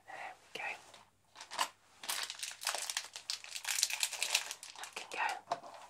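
A sealed plastic envelope holding dental aligners crinkles and rustles up close in bursts, sharp crisp crackles over soft whispered speech.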